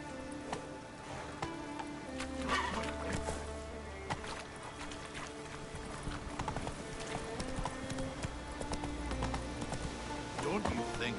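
Horse hooves clip-clop steadily through a fantasy open world in The Witcher 3: Wild Hunt as the rider's mount runs, set against a music bed and ambient game sounds, with brief spoken lines over it.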